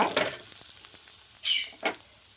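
Onion, bajji chilli, ginger and curry leaves fry in coconut oil for a tomato chutney, sizzling up close with a couple of sharp stirring bursts over the crackle.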